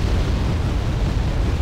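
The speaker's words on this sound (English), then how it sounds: "There's 2 artillery strikes, the Smersh and tube artillery hitting there" Video game artillery strikes from Smersh rockets and tube artillery land in a continuous heavy rumbling roar of explosions, loud and dense without distinct individual blasts.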